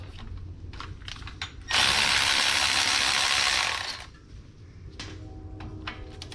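Ratchet fitted with a 17 mm socket loosens the front brake caliper bolts on a 2016 Ford Taurus. A loud, steady burst of rapid clicking lasts about two seconds, close by, then fades to quieter shop noise.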